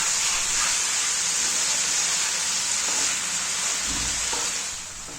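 Broccoli, potato and carrot cook down in a pan as the water reduces, giving a steady, loud broadband sizzle and bubbling hiss that runs unbroken throughout, with a faint stir or clink near the end and no talking.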